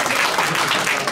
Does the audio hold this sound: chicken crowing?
no